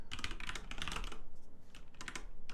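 Quick bursts of keystrokes on a MacBook laptop keyboard, clicking in two clusters with a short pause between, close and fairly quiet with no talking.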